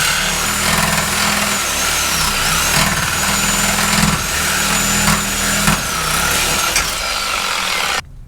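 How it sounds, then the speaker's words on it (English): Sawzall reciprocating saw cutting a suspension cup off beneath a 4th gen Ram 1500, a loud, sustained buzzing drone with rapid rhythmic strokes and a metallic high whine, stopping abruptly at the very end. "we're gonna Sawzall this cup off clean"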